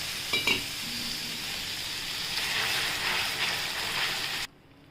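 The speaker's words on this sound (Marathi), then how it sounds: "टाकलं आहे तर हे उकळतं आहे" Milk poured into hot sugar caramel for coconut caramel barfi, sizzling and bubbling steadily in a pan with a few clinks of a stirring utensil, then cutting off abruptly.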